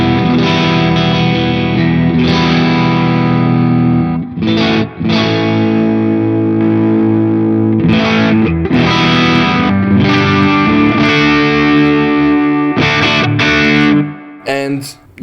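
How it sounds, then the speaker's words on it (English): A Valiant Mercury electric guitar plays heavily distorted riffs and chords with all three pickups on, loud and close, with effects and brief pauses between phrases. "how it sounds with all 3 pickups activated"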